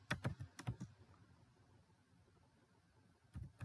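Computer keyboard typing heard as quick, faint clusters of key clicks at the start and again at the end, with a quiet gap between.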